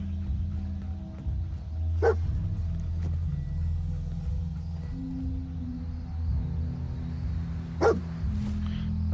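Dogmeat, the dog companion in a video game, gives two sharp separate barks several seconds apart over a low, rumbling ambient hum.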